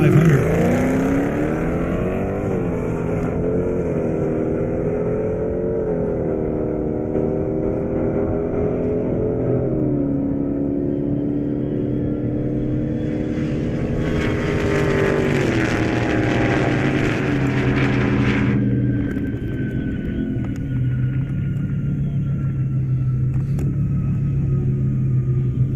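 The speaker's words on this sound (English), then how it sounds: "Now I got Jason Burrow in the Hellcat. Trevor in the GT 500." A Dodge Hellcat and a Ford GT500 drag race down an airport runway, their engines roaring loud and near as they climb through several gear shifts, then the noise fades into a lower, more distant drone.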